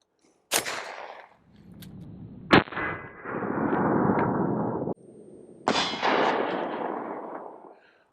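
.45 ACP rounds striking an armor shirt on a torso target, producing two sharp loud cracks with metallic clangs, each followed by a long rumbling echo that decays across an open range.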